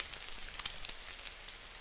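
Foley effect imitating rain for movies, a faint, soft crackling patter like drops on a surface, steady and quiet with a few brighter ticks.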